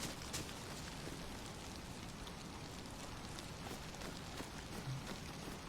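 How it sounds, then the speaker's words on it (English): Steady rain falls in the video game DayZ, a dense, continuous hiss of drops at an even level throughout, close and enveloping, with no talking. "Love the sound of the rain."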